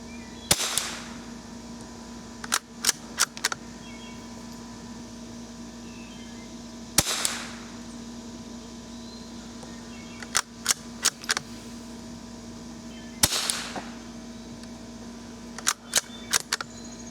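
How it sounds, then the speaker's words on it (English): Rifle shots fired with SK Standard Plus ammunition: three sharp, cracking reports spaced several seconds apart, each followed by short clusters of small mechanical clicks over a quiet, steady background hum. "This time we're going to be shooting this SK Standard Plus."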